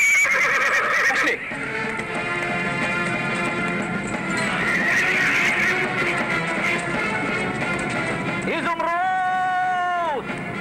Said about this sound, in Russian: А где же моя лошадь?